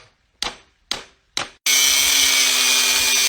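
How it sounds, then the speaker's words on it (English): A power tool cutting through the bolt on the back of an old safe in a 500-year-old house: three short revving bursts with pauses, then a loud, sustained high-pitched grinding whine held steadily to the end, close by. "So we finally cut through the bolt."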